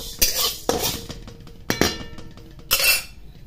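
Toor dal tumbles and rattles in a hot metal pan for roasting, giving sharp clinking, scraping bursts that come in uneven clusters, close up and fairly loud, with no voices.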